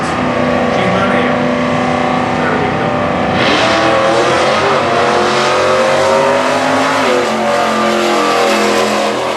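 Stock class drag racing cars at the Indy eliminations, including a K-Stock automatic 1980 Malibu and a 2003 Dodge, roar loudly and continuously with rising revs as they accelerate, while a track announcer talks over the engines.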